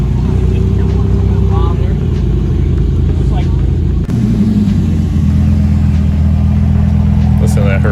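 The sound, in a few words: Maserati MC20 Cielo Nettuno V6 engine idling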